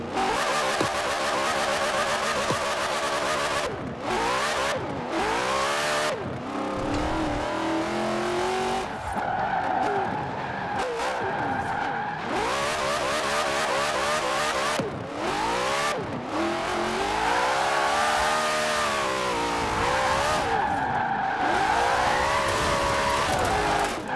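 Car drifting in the Forza Horizon 4 racing game: a revving engine with long, wavering tire squeals and skids that rise and fall through repeated slides, loud and continuous with no talking.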